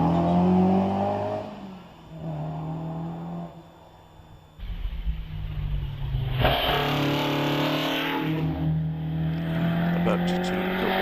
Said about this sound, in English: As that lovely looking Alfa continues its way up the hill.